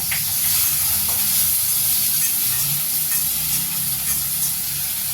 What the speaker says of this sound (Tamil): ஒரு கப் வச்சுருக்க பிரண்டையை எடுத்து நான் இதில் போட்டு ஒரு வதக்க போகிறேன்.